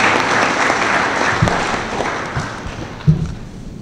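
Audience clapping fills a lecture hall at an inaugural lecture in Accra, a steady wash of applause with a few louder thumps near the end.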